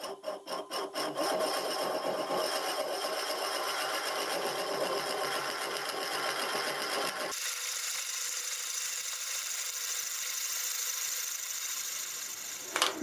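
A steady, close whirring and scraping of wood spinning on a lathe at about 300 RPM during multi-axis turning, continuous and fairly loud, with a sudden change in tone midway.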